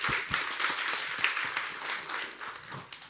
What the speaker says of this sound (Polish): Więc brawa.